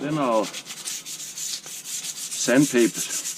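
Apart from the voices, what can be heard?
sanding a Cold Steel tomahawk with sandpaper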